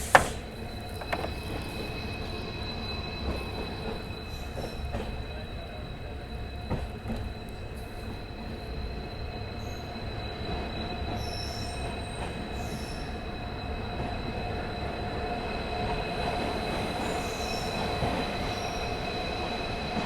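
The Rajasthan Sampark Kranti Express nears Jodhpur Junction, its wheels squealing in long steady tones over a continuous rolling rumble, close and unbroken, with no voices.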